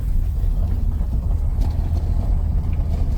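A 1968 VW Beetle with a stick shift pulling away gently in low gear, its engine giving a steady close rumble with some wind-like noise and no talking.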